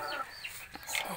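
A hen clucks on a native chicken farm, a short burst of close, moderately loud clucks and calls with some background farmyard noise.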